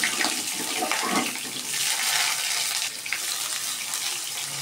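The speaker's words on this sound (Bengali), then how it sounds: "ফোড়নটা আমার ভাজা হয়ে গেছে" Cardamom pods, a little cinnamon, cumin seeds and chopped onion fry in a small amount of oil, giving a steady, close hiss and crackle that swells and eases slightly throughout.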